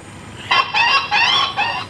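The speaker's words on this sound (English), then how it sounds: "Next one's a starling." An airport loudspeaker plays a recorded starling distress call to frighten birds, giving a run of shrill, harsh squawks in quick succession, loud with no talk over it.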